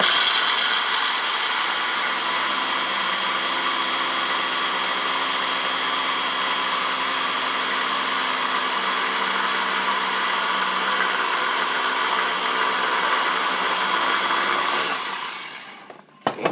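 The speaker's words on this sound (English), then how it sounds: "We're just going to grind it this time." A kitchen appliance grinds nuts into nut butter with a steady, loud whirring roar that runs unbroken for about fifteen seconds, then cuts off abruptly near the end.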